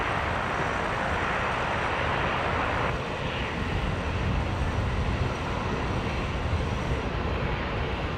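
An aircraft taxis onto the Coniston apron at Brisbane airport, a steady broadband engine rumble and hiss at fairly high level, continuous and unbroken, with no voices.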